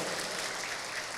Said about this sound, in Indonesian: Tepuk tangan dong buat Masjid Al-Ikhlas ini ya